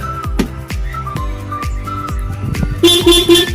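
A PIAA horn on a Yamaha Mio i 125 motorcycle sounds in a few short bright toots near the end, following a series of rhythmic mechanical clicks and thumps.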